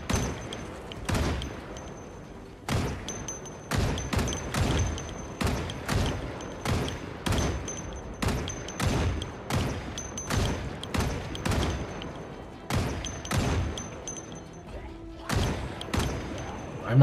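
Gunfire in Project Zomboid: a long series of loud, sharp shots, about fifteen in all, fired at a fairly even pace with short gaps, each ending in a brief echoing tail.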